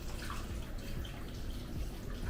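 Water poured into a cooking pot holding meat with cumin and oregano: a steady, close splashing and gurgling stream that runs continuously throughout, with no voices.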